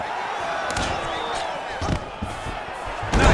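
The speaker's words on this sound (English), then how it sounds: "Nice pop there from the crowd as he finally gets the takedown." An arena crowd at a UFC 301 fight roars in a sustained, fairly loud wash of cheering, swelling into a bigger pop near the end as a fighter finally completes a takedown.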